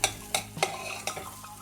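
A spoon stirs a ginger mixture for a keto peanut snack, making about five close, sharp scraping strokes in an uneven rhythm with no talking.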